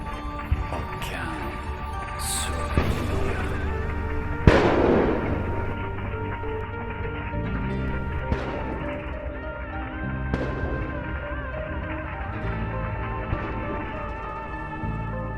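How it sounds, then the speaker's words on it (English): A HIMARS strike on a military convoy sets off a loud blast followed by scattered popping and crackling detonations of shells, with tonal background music or noise running under the bursts. "Fire everywhere, shell detonation, smoke."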